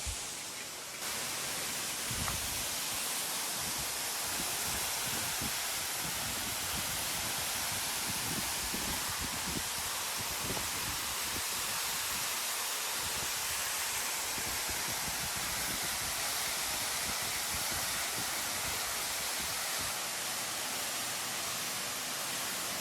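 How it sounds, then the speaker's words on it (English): A waterfall at a hidden sacred shrine site, a dense, steady roar of falling water heard up close that continues unbroken throughout. "You can also go behind the waterfall."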